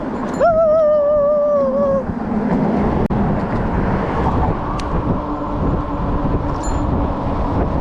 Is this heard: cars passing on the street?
yes